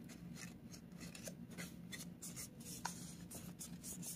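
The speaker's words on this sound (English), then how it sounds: "we're gonna fold that back towards the middle" Paper being creased into a V-shaped fold gives soft, close scratchy rubbing and rustling strokes in quick succession, faint and with no talking.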